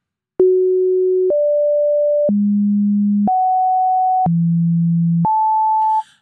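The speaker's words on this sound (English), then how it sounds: "that sample and hold is sampling the sine wave at the 1 second interval" A synthesizer's sample-and-hold samples a sine wave at one-second intervals, giving six loud, pure stepped tones. Each pitch holds for about a second, then jumps abruptly up or down to the next, with nothing else heard.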